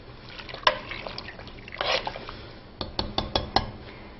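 Quinoa and water stirred in a cooking pot, with a spoon scraping and clinking against the metal in bursts and several sharp taps near the end, up close and with no talking.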